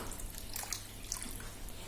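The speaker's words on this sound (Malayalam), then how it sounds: "കുറച്ച് വെള്ളം ഒഴിച്ചു കൊടുക്കാം" Water being poured into a pan of jaggery while making wheat halwa, a faint, steady trickling splash that runs continuously for a couple of seconds with no talk.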